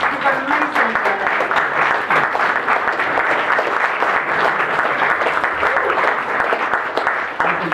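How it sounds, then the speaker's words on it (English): An audience at an anniversary gathering applauds steadily for several seconds, dense clapping from many hands that sounds fairly close and full, with faint voices mixed in underneath. "Can we stand up and applaud you?"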